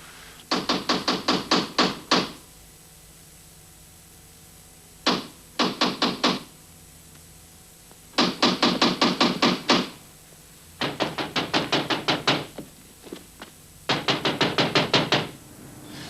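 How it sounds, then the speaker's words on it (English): Knocking on a door: repeated bursts of rapid, firm knuckle raps, each run of about five to eight knocks, separated by short pauses across the whole stretch, close and loud with no talking. "Somebody at the door."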